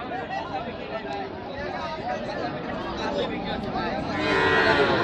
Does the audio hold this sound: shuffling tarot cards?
no